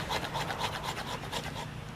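A Schrade SCHF 37 knife blade scrapes pine wood into fine fire-starting dust, a quick run of rhythmic rasping strokes, close and fairly quiet, with no talking.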